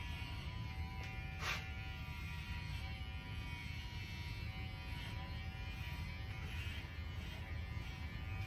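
Electric clippers buzz in a steady, quiet hum while shaving the back of a senior cocker spaniel during a grooming haircut, continuous with no talking.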